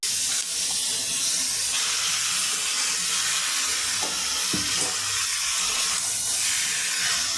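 Chicken going into hot oil in a wok with chopped onion, green chilli and tomato, giving a loud, steady, hissing sizzle that fills the whole stretch, with a few faint knocks and no voices.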